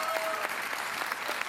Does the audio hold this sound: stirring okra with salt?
no